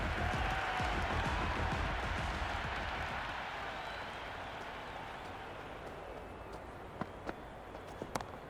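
Crowd in the video game Cricket 26 cheering and applauding a boundary shot, a dense roar that starts loud and slowly fades, with a few sharp claps standing out near the end.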